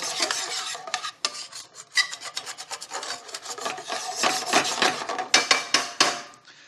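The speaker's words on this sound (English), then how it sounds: "And we'll capture all of that goodness that's on the bottom of the pan. Just scrape it up" A utensil scrapes bacon bits off the bottom of a cooking pan in rapid, rough, rasping strokes. The scraping is close and steady, with sharper strokes toward the end.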